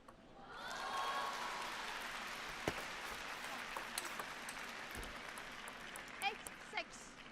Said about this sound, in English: the world #1 in women's is getting all the cheer. Now that's happening next door in Sun Ying-sha, as you can probably hear.